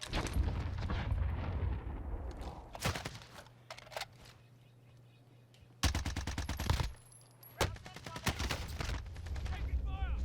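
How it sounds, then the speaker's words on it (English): Hostile gunfire in Call of Duty: Warzone, with several loud bursts of automatic fire and sharp single shots, close and intense, broken by a quieter stretch with a low hum before more bursts crack in. "Receiving hostile fire."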